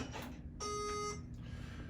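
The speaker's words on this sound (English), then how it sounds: "You heard the audible beep" A short, clear electronic beep from a cordless torque tool signalling its set torque is reached, a single high tone lasting about half a second over faint background hum.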